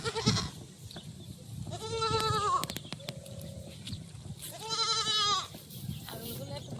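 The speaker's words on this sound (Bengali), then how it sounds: "ছাগলগুলো একটু বাড়ির ধারে নিয়ে যাচ্ছি" Goats being led home near a riverside village bleat loudly in two long, wavering calls a few seconds apart, over a steady outdoor background with a few clicks and knocks.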